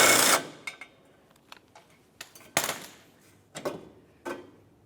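A mounting bolt on a bumper bracket of a 2006-2011 Honda Civic comes loose under a hand tool, sounding as a run of short sharp metallic clicks and ratchet bursts at irregular intervals, close and fairly quiet, with silence between.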